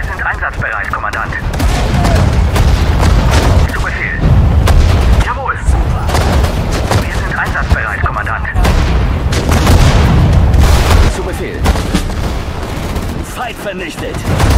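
Heavy tank cannon blasts and explosions in the video game Sudden Strike 4 boom through dense, continuous battle noise, with voices shouting in German over the chaos.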